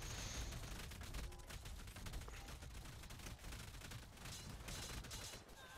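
Rapid video game gunfire crackles steadily through a constant, dense wash of noise, fairly faint and unbroken with no clear pauses.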